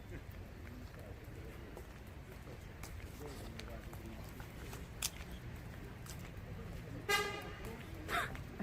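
A short car horn honk rings out over busy street noise and chatter, followed a second later by a fainter toot.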